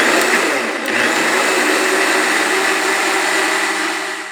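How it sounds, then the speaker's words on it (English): A countertop blender whirs at full speed, puréeing cooked cauliflower into a vegan Alfredo cream sauce, a loud continuous motor roar with a brief dip in pitch near the start, close up and with no voices. "this is ready to go into the blender. So let's get blending"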